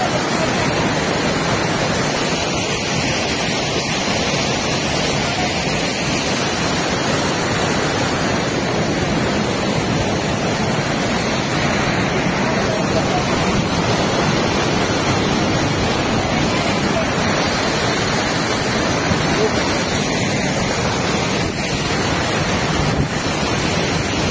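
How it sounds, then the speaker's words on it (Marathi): A strong stream of water rushes through a forest with a dense, continuous roar that stays loud and unchanging throughout, with no other sounds standing out. "तो भरपूर प्रवाह पाण्याचा आहे."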